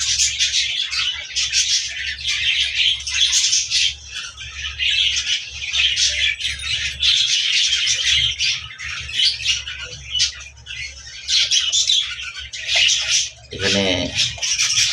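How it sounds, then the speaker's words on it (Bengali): Pet doves, Caesar doves and brown Australian doves kept together, make chirps and calls alongside busier chirping from small cage birds throughout, with a lower cooing burst near the end. "এখানেও আমার সিজার ঘুঘু পাখি আছে 4টা, আর ব্রাউন অস্ট্রেলিয়ান ঘুঘু পাখি আছে"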